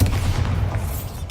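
Bombarda spell blast in Hogwarts Legacy, a dense low boom that rumbles steadily through the short moment, loud and close, with no speech over it.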